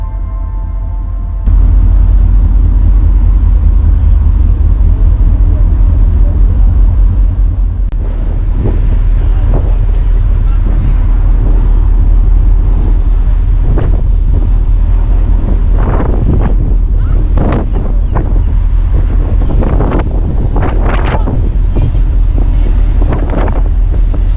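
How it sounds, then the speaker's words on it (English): Strong wind roars over a ferry deck on the crossing to Stromness in the Orkney Islands, with constant heavy buffeting and a deep engine-and-sea rumble, loud and unbroken, punctuated by sharper gusts toward the end. "we need to finish this ferry journey and get to Stromness so we can rest for the night"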